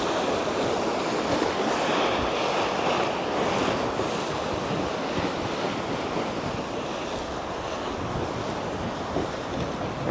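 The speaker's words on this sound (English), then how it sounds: "It's not a particularly large beach, but it is quite nice." Ocean surf washes steadily onto Samae Beach on Koh Larn, a continuous broad wash of breaking waves with light wind buffeting the microphone and no voices.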